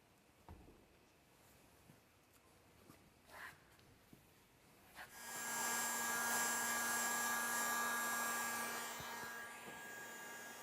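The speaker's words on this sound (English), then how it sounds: "Warm and blow the film where the seam occurs at the highest point." A heat blower starts with a soft click and then roars steadily as it warms car wrap film at a seam, a loud, even airy whine that holds for several seconds before easing slightly.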